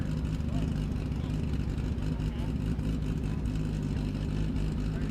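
A double A street roadster racing on the El Mirage dry lake course: a continuous deep engine drone, steady and distant to moderate in level, with no clear gear changes and a faint voice speaking over it.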